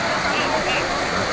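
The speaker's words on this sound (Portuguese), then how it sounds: "O barulho de chover está aumentando." Heavy rain and rising floodwater during a flood in Urupês, São Paulo, form a loud, dense, continuous outdoor wash of water noise with a voice speaking over it.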